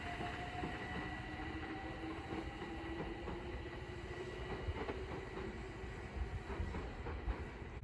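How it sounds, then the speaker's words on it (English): London Overground service departing Sydenham station, a steady low rumble of a train pulling away with faint wheel clatter and a thin rising whine, moderately distant and quiet, no voices. "And also departing is the 1411 London Overground service from Hybri in Islington to Crystal"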